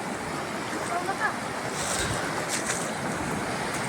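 Broad, steady rush of heavy floodwater flowing through crop fields near a river, with wind buffeting the microphone, loud and continuous.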